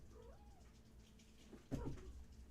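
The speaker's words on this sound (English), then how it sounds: "I have to go help my cat." A pet cat stuck up high lets out a short, faint cry partway through, in an otherwise quiet indoor room with low background hum.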